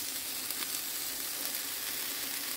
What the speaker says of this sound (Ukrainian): а низ у нас стоїть так же і підсмажується